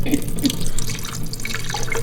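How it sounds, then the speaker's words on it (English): Cloudy rinse water is poured off from a container, a steady close splashing pour lasting a couple of seconds. "just going to pour that water off"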